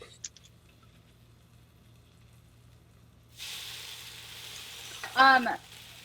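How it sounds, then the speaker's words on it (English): Noodles for okonomiyaki sizzle on a hot griddle, a steady hiss that starts partway in after quiet, with a brief louder burst of clatter and frying near the end. "So the noodles are going. I'm gonna flip the noodles."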